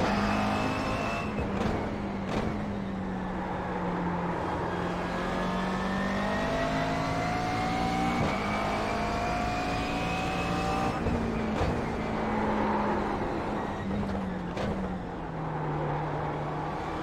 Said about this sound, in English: I do like the McLaren. It's got a lovely sound to it.